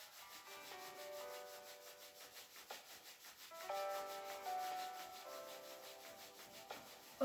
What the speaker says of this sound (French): Je prends les poings et je viens frotter l'intérieur de mes cuisses.